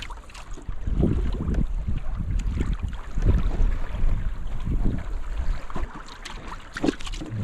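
Strong wind buffets a sailing kayak out on open water near a lighthouse, a steady loud roar of gusts rushing over the microphone with water sloshing beneath and no voice.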